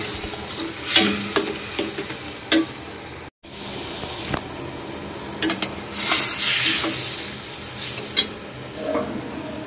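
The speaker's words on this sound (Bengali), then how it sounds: "এই যে একটু নেড়ে চেড়ে আমি জলটা দিয়ে দেবো" A spoon scrapes and stirs rohu fish in mustard curry in a pan, with steady sizzling frying beneath and occasional sharp clinks of metal against the pan, no talking.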